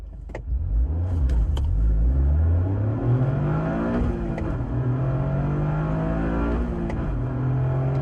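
A Toyota GR Corolla driving in sport mode with a rear-biased all-wheel-drive split, its engine climbing through loud rising revs and a gear change, heard from inside the cabin without talk.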